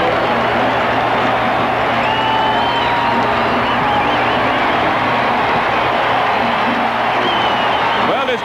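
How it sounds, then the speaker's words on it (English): A packed 1979 NFL football stadium crowd roars loudly and continuously after an interception. The sound is a dense, unbroken wall of cheering with shrill whistles cutting through. "Well, this crowd tells you a lot."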